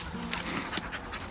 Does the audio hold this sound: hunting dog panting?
yes